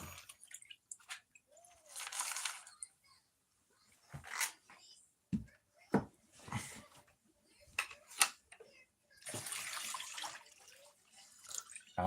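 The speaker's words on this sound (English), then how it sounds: "catch pan is getting dumped into the super sluice now" Water from a catch pan poured into a super sluice while prospecting quartz vein paydirt, heard as bursts of splashing and rushing water interspersed with talk and clattering.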